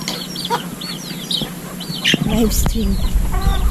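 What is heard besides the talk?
chickens clucking on a Filipino farm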